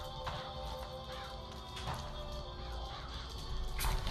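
Crows cawing from the Murder of Crows vigor in the video game Bioshock Infinite, a dense, steady layer of game sound with a few sharper bursts near the start and a louder swell toward the end.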